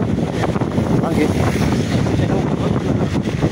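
Strong wind buffeting the microphone outdoors near a mountain forest road, a continuous loud rumbling roar with gusty fluctuations and no pauses.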